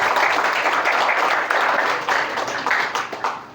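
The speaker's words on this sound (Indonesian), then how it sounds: "All of teachers, berikan tepuk tangan antum untuk Nusantara." Teachers at a motivational seminar in an Islamic boarding school in Serang applaud, a lively burst of many hands clapping with some rhythmic surges, fading slightly toward the end.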